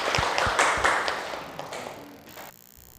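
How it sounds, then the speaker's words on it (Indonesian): A classroom of students claps after a group presentation, a brief burst of scattered hand claps that thins out and fades within a few seconds. "Tepuk tangan."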